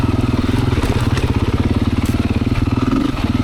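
A Beta 500 dirt bike being ridden, its big single-cylinder engine thumping in a fast, even pulse close up and loud, steady throughout with no talk.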